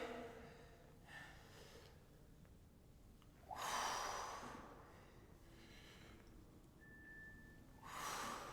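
Heavy, forceful exhales through the nose and mouth during a glutes and hamstrings deadlift workout, two loud bursts of breath several seconds apart, close and alone.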